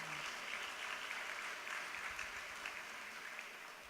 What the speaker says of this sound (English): Y'all better clap for that.